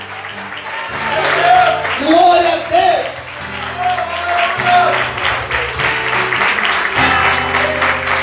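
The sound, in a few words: congregation applauding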